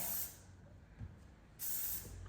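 Two short bursts of aerosol hairspray misted onto hot-rolled, finger-separated hair, a bright close hiss at the start and another after a pause, quiet in between.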